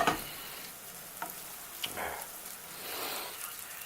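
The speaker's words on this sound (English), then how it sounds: "I got a little sugar snow peas I'm sauteing at the same time" Sugar snap peas sautéing in a pan beside a simmering cream sauce give a soft, steady sizzle with a few light stirring clicks and scrapes, close and fairly quiet, with no talking.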